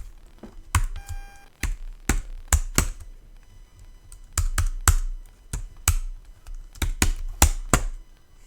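Typing an equation on a computer keyboard, with crisp, loud, close key taps in uneven clusters and a short electronic beep early on. No one speaks.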